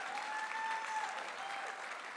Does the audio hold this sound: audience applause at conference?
yes